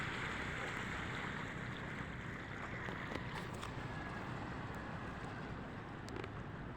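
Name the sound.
waves hitting a boat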